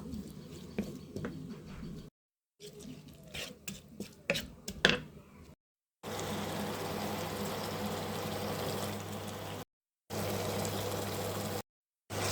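Taro (kochu) being added to fried onions in a pan, with an initial stretch of clattering and plopping followed by a steady hiss and sizzle of frying that continues through short gaps.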